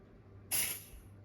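One short, sharp hiss of spray bursts from a can up close, then fades quickly into quiet.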